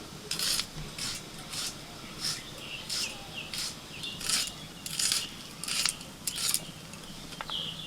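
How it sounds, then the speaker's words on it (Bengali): An onion is sliced into long thin strips for white egg pulao, with a steady series of crisp knife cuts on a board, about a dozen evenly spaced strokes, close and clear. "পেঁয়াজটা কেটে নেব লম্বা লম্বা সরু সরু করে পেঁয়াজটা কেটে নিতে হবে"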